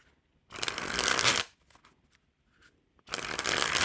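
White Team Canada playing cards being shuffled, two loud riffling bursts about a second each separated by a short pause with light card handling, close and clear, no talking.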